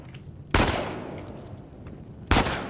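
Two sharp, loud gunshots in Uncharted 4, about two seconds apart, each with a sudden crack and a decaying echo over faint background game noise.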